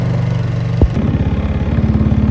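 A small engine on an old Yerf Dog go-kart, once abandoned in a snow bank, runs without an air filter. It gives a close, loud putter with a sharp knock early on, then settles into a steady, rhythmic chugging idle.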